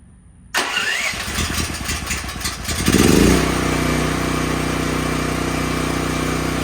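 A DuroMax XP13000HXT portable generator cranks with a brief rattling start-up, then catches and settles into a loud, steady, close engine hum that runs on without talk.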